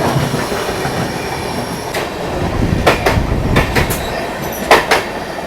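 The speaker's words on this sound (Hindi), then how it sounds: "ये थी भाई मुंबई हावड़ा मेल जो डेली चलती है वाया नागपुर होते हुए।" The Mumbai Howrah Mail, a daily train running via Nagpur, passes close by with a loud, steady rumble of rolling wagons and sharp rattling clacks that bunch into bursts toward the end.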